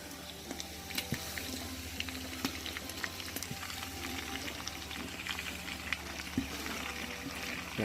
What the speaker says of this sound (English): Okay, it's time to add the onions.